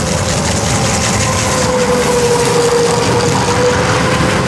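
A tram car on snow-cleared city tram tracks gives a loud, steady rumble with a faint whine running through it, continuous and close throughout.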